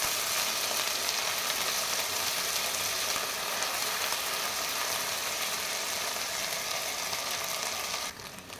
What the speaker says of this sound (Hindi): इसमें अभी लहसुन अदरक का पेस्ट जाएगा और इसको अच्छी तरह से इसको भी भून लेंगे 1 से 2 मिनट के लिए